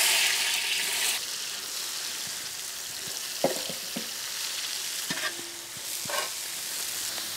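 Finely chopped onions hit hot mustard oil with a loud burst of sizzle that settles into a steadier frying hiss, punctuated by occasional stirring knocks and scrapes.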